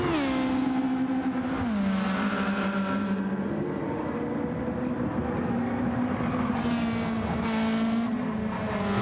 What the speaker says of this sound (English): The exhaust noise is coming closer and closer.